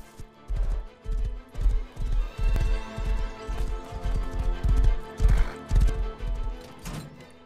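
A horse gallops in the video game Rust, its hooves producing a steady, rhythmic clip-clop of heavy thuds that repeats closely and evenly throughout.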